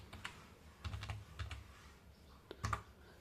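Typing Java code on a computer keyboard, a quiet, close run of irregular key taps in small clusters with short pauses, no voice over it.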